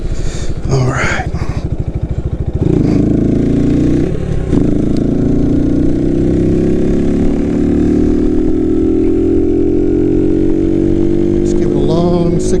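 A motorcycle engine running a beta test tune pulls hard through a long stretch in sixth gear, loud and close, its drone climbing slowly and steadily in pitch after a brief rougher, wind-buffeted start.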